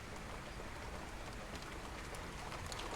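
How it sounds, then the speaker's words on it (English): Steady rain in the zombie survival video game Zafehouse Diaries 2, a continuous even hiss of falling drops with faint scattered patter, moderately quiet and without any talk. "It's raining, though."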